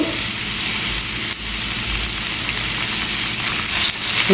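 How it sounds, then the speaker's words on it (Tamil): Chopped onion frying in a pan for a Sri Lankan-style stuffed capsicum curry, a steady, dense sizzle that holds close and loud throughout with no talking. "ஒரு பெரிய வெங்காயத்தில் பாதியும் எடுத்துருக்கிறேன் இதில் போடுறேன்"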